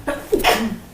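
A single sneeze bursts out during an indoor talk, a brief sharp breath and burst that ends within a second.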